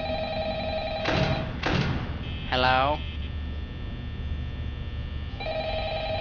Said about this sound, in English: Ow, loud phone. Loud telephone.